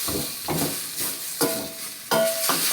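Spoon scraping and stirring beef caldereta with beef cubes and chili in a sizzling pan, about six rhythmic strokes over a soft, steady frying hiss.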